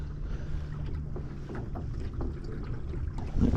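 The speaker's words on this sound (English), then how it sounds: "That wind is something else" Strong wind blows across a small lake while trolling from a small boat, a steady buffeting rush of gusts battering the microphone with faint lapping water beneath and a louder gust at the very end.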